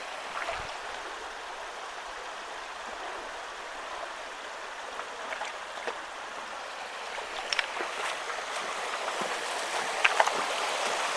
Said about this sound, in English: there is water coming out of that one